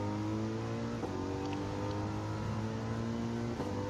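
A Mercedes race car in Gran Turismo 7 holds a steady, loud engine drone with a harmonic whine throughout, slight pitch shifts hinting at gear changes, and no voices.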